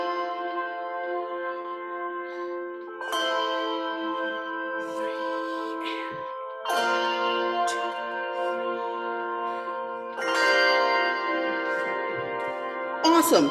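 A handbell choir rings a workshop piece in sustained, resonant chords, each new chord struck together and left ringing before the next, with a voice speaking over the bells.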